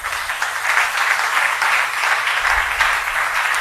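A church congregation claps together in dense, continuous applause that stays loud and even throughout the short stretch, with no voices standing out.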